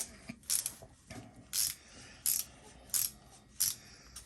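A DEWALT ratcheting T-handle hex key wrench clicking in short, evenly spaced bursts of crisp ratchet clicks, about six close, clear rounds with quiet pauses between, and nobody talking.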